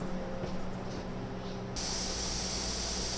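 A pressure canner full of potatoes vents steam in a loud, steady hiss. Partway through, the hiss jumps sharply to a harsher, brighter, full-force jet that carries on strongly to the end.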